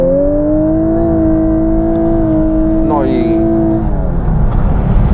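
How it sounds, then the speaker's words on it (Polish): A Lexus LC 500h engine revs in Sport S Plus mode with a rising, steady whine that climbs in pitch and then drops back, loud and close, with a brief voice midway. "potrafi się ten silnik odezwać i to dosyć głośno"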